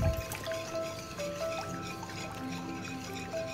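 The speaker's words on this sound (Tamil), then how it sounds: "ரோஸ் சிரப் ஒரு 2-3 ட்ராப்ஸ் விட்டுக்கிறேன்." A few drops of rose syrup fall into a Thandai milk drink, soft quiet drips and a faint trickle over a low, steady kitchen background.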